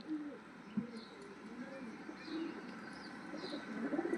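Pigeons in a breeding setup give soft, low coos, faint and intermittent against a steady background hum.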